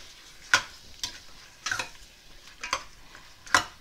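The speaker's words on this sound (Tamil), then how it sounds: "இதை ஒரு கிண்டு கிண்டி விட்டுடலாம்" Mutton pieces being stirred in a pepper masala in a pan, giving a handful of short scraping clatters about a second apart over a faint sizzle, close up with no talking.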